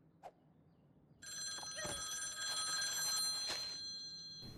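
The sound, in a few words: phone ringing in cartoon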